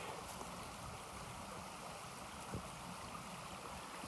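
Water rushes steadily in a low, continuous wash from a small creek in Massachusetts flowing nearby, soft and unbroken throughout.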